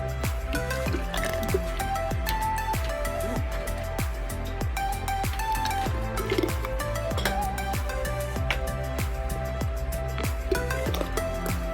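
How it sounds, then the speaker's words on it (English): Homemade spaghetti sauce is stirred and ladled into canning jars, giving wet, squelching thuds and drips in a loose, repeating rhythm. The sounds are close by and steady, with no talking. "I'm going to give it a stir and then ladle in."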